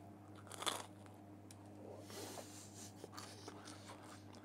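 Biting into crunchy homemade pizza crust produces one sharp, close crunch early on, then quieter crackling chews and scrapes.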